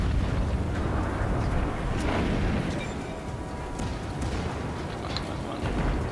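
Naval guns fire and shells explode aboard the American tier 4 cruiser USS Phoenix in World of Warships, a continuous heavy rumble of booms and blasts layered over one another, loud and close throughout.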